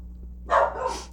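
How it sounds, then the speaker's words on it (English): A single short bark bursts from dogs kept somewhere in a house, sounding once clearly over a low, steady background hum. "My dogs are barking."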